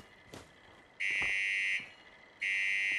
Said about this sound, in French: il teste l'alarme en fait